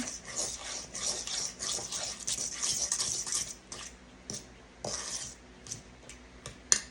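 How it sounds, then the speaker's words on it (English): Ingredients being mixed in a bowl for apple bread in a homestead kitchen, with a spoon or whisk scraping and clinking against the bowl in a steady, quick rhythm, close up and fairly quiet. "Just keep mixing, just keep mixing, just keep mixing."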